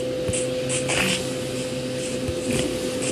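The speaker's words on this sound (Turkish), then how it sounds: "Yani şu an elektrik süpürgesi çalışıyor kusura bakmayın." A household vacuum cleaner running indoors, a constant motor drone with a steady whine, heard continuously under scattered light game clicks and taps.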